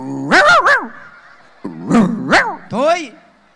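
A performer's voice imitates the screeching call of a barn owl (chim lợn) on a comedy stage: loud, hoarse, rising-and-falling cries in two bursts with a pause between.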